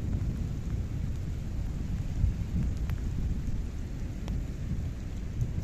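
Thunderstorm passing over in western France, steady heavy rain with low rumbling thunder throughout, dense and close, no voices.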